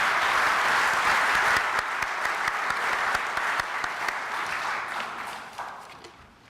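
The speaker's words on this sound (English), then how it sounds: "if I could ask you to have a round of applause for all of my fellow members" Applause from the audience at the Palm Beach Civic Association's annual meeting honouring fellow members: steady, dense clapping that holds for several seconds before thinning out and trailing off.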